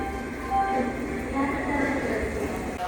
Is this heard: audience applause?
no